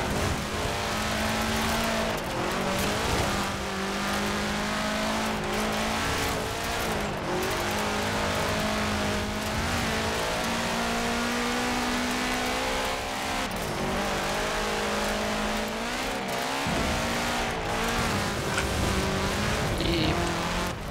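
Car engine in Forza Horizon 4 revving hard with an abrasive, raspy tone, rising and falling through gear changes with some tire squeal, loud and continuous throughout.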